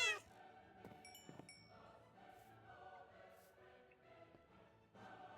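A wither cat in the Minecraft modpack GregTech New Horizons meows a few times at moderate distance. Game music and ambience run underneath.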